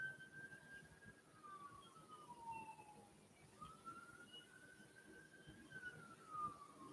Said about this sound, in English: you hear these sirens all the time